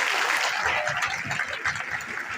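Audience applause at a Longrich award ceremony, a steady dense wash of clapping throughout with a voice talking over it.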